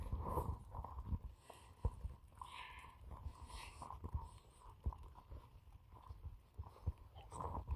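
A herd of goats walks nearby, their hooves making soft, irregular clopping steps, quiet and outdoors with no voices.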